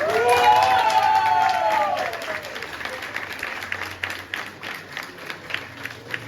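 Sustained applause from a crowd at a school last-bell graduation ceremony in Ukhta, Komi Republic, with a voice speaking over it at the start, then the clapping thins to scattered, uneven claps.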